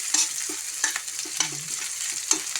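Garlic sizzles steadily in a pan, frying toward brown for a dish of sautéed string beans and squash with shrimp, with scattered stirring scrapes and clinks over the constant hiss.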